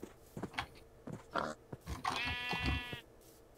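Sheep in the video game Minecraft: a clear wavering bleat mid-clip among scattered footsteps and soft game sounds, fairly close and alone without talk.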